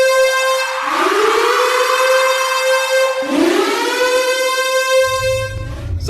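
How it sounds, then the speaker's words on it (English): A loud Hawaii civil defense warning siren wails alone, rising and holding a steady tone, then winding up again in a second long blast. "We also use sirens for hurricanes, brush fires, flooding, lava, hazmat conditions, or even a terrorist event."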